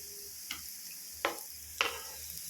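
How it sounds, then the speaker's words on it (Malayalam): Ingredients stirred and sautéing in a pan for white sauce pasta, with a low steady sizzle and three soft spatula scrapes spaced across the moment, close and quiet with no talking. "ഒന്ന് വഴറ്റിയെടുക്കാം നന്നായിട്ട്."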